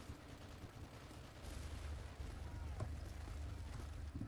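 Gunfire from the video game Call of Duty: Modern Warfare 3, a dense burst of rapid shots and rumbling blasts running throughout the short stretch at a steady, fairly loud level.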